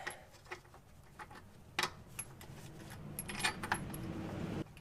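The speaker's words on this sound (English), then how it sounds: "drop it down a little bit. Put the bolts back in." Metal bolts clink and rattle faintly as they are fitted back into a Jeep, with a few scattered sharp taps and jingles over a low background hum.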